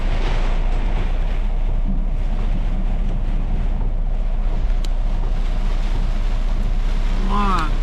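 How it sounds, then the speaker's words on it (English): Heavy rain pours down at night in Texas, a loud, unbroken broadband roar close to the microphone, with a brief voice-like sound at the very end. "My God, it's pouring down out here in Texas."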